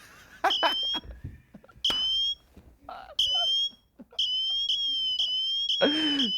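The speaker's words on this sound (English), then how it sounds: "It's a siren that's on here." A siren-style alarm tone plays from a phone app in bursts of rising and falling whistling wails, separated by short gaps, with people talking over and between them.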